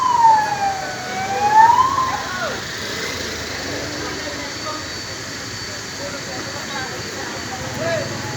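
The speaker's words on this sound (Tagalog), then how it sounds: "Yan na po ambulansya." Ambulance siren at a road accident scene involving a car and a motorcycle, a wailing tone rising and falling at a distance over steady traffic rumble, with people talking nearby.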